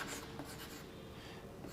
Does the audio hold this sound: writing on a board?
yes